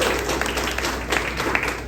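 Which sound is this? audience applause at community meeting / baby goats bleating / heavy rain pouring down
audience applause at community meeting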